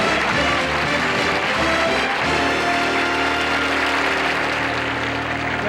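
Studio audience applause for comedian Jackie Mason on the Smothers Brothers variety show, a dense steady wash of clapping filling the room, loud and continuous throughout with music-like tones underneath.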